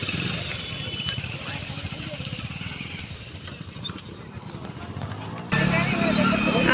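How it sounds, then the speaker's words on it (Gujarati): A motorcycle pulls up near the Bhichari Mataji temple in Rajkot, its low engine idling and rumbling close by under people talking, before the sound shifts to a louder, broader noise near the end. "બાઇકમાં આવ્યા"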